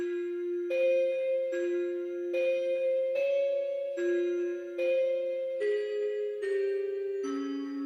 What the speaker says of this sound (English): So next we have this little counter bell.